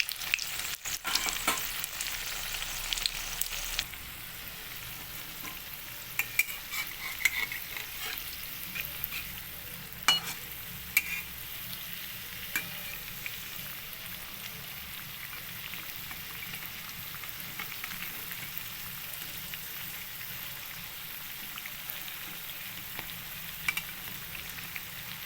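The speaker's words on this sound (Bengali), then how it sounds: "ভাজা মোটামুটি হয়ে গেছে, আর একটু ভাজা হলেই নামিয়ে দেব।" Flattened rice (chira) frying in a pan for a crispy snack, a steady close sizzle with scattered stirring scrapes and clicks, louder and busier during the first few seconds before settling into an even hiss.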